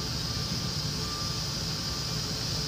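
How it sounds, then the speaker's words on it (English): A forklift loads a truck, heard as a steady mechanical engine drone with a faint tonal whine running underneath, constant and moderately distant. "they're running it in on a forklift and then hand loading it, it sounds like."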